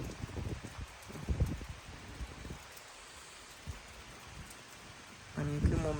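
Rain falls steadily at a house in a garden setting, a soft continuous wash with scattered louder patters and knocks, a brief tonal sound near the end.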